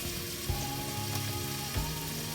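Mixed vegetables and mushrooms (carrots, broccoli, beans, zucchini, bell peppers) sizzling steadily in a hot pan for a Thai red curry, with a couple of soft thumps as they are tossed, close and continuous with no talking.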